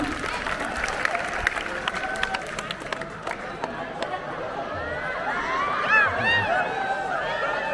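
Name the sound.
crowd applause at a Monday assembly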